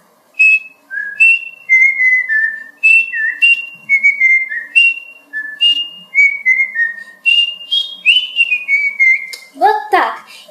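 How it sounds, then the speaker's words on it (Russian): A whistled song melody in a Russian pop tune, a run of clear, bright phrases with short pauses between them, carried close and loud for about ten seconds, ending on a brief rising flourish. "Просвисти мою мелодию так."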